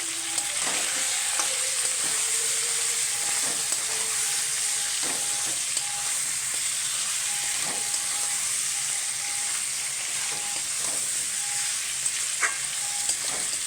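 Chicken pieces with turmeric frying in oil in a pan, a steady close sizzle and hiss with occasional stirring scrapes and taps throughout.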